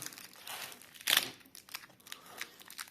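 Packet of Soviet-era coins is torn open, its wrapper crinkling and crackling in close, quiet bursts with one sharper tear near the middle.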